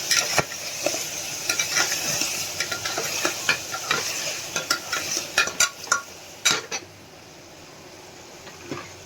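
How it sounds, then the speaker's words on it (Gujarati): Turmeric and tomatoes stirred into frying aubergine and potato curry, a spatula scraping and tapping the pan in quick irregular strokes over a steady close sizzle that quiets toward the end. "હળદર એડ કરી દઈશું ચપટી અને ટમેટા એડ કરી દઈશું મિક્સ કરી લઈએ બધું"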